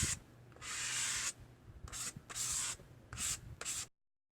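An old credit card smooths paint across a palette in several close, dry scraping strokes of about a second each, separated by brief pauses.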